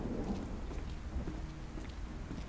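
Rain and low rumbling thunder fill a stormy scene in the DayZ game, a dense steady downpour with deep rolling undertones and no speech.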